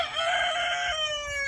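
A rooster in a backyard chicken coop crows once, a loud, close, drawn-out call with a falling tail and no talk over it.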